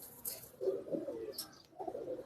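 A single-coloured pet pigeon coos softly in a couple of low, rolling phrases, near but quiet, with a faint high chirp in the background.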